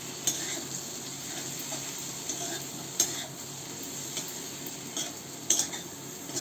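Vegetables frying in a pan as spices such as garam masala and coriander powder are stirred through, a soft continuous sizzle with occasional metallic clinks and scrapes of a spoon against the pan, fairly quiet and close.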